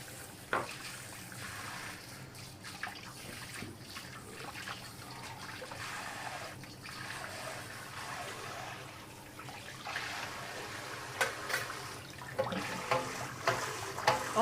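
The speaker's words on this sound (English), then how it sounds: "I need to wash out the wok" Water runs while a wok is washed out in a home kitchen, a steady trickle and splash with a few sharp clanks and knocks of the pan growing more frequent toward the end.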